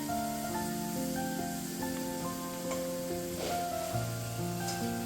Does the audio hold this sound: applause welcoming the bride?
no